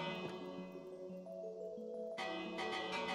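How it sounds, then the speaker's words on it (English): A bell struck in Minecraft singleplayer survival rings out with a sustained metallic tone that decays, then is hit again about two seconds in, the second strike bright and ringing. "And I also added bells. I'm so happy that I can hit this now."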